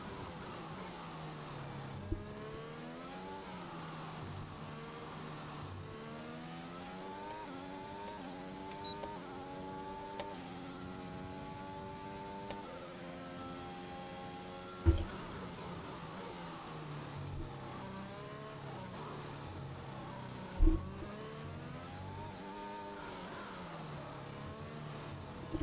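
A Formula 1 car on a track lap revs high and climbs steadily through the gears, its pitch dropping briefly at each upshift before rising again. The whine is continuous and steady over the whole lap, with no one speaking.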